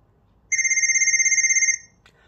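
Ringtone from an incoming video call on a boAt Wanderer smartwatch, a loud, steady electronic two-tone warble that rings for about a second and then cuts off, with no talking.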